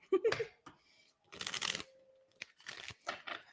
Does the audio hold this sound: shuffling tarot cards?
yes